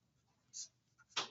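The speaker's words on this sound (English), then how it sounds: "Okay, so I'm going to retrace this real quick." A marker traced over marker paper while drafting a denim pattern, two or three short dry scratchy strokes heard close by in a quiet room.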